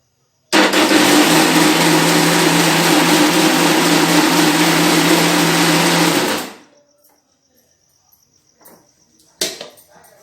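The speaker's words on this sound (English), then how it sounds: "Now I have mixed all the ingredients into this mixing pan and I will start it and mix it." An electric mixer whirs steadily for about six seconds while mixing mushroom cake batter in a mixing pan, loud and continuous with a high buzzing tone, then shuts off, leaving near silence and a few faint knocks.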